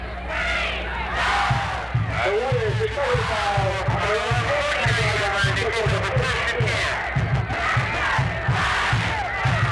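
A big crowd at a high school football game between the Bethel Bruins and Kecoughtan Warriors roars and shouts continuously, with a rhythmic pounding chant beat underneath and a commentator talking over the din.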